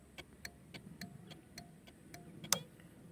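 Motorcycle turn indicator relay ticking in a steady, evenly spaced rhythm of about three clicks per second, faint and close, with one sharper louder click near the end and no talking.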